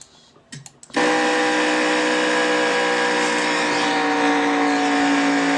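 Onboard engine of a Traxxas Truck Series race truck at the Lucas Oil 150, a loud steady high-revving roar holding at full throttle after a brief ragged start, with no talk over it.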